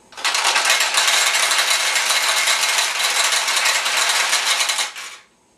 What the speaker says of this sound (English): as you do, the balls should flow from here to here